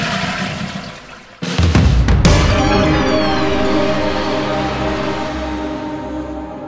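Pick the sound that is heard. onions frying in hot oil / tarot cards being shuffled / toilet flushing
toilet flushing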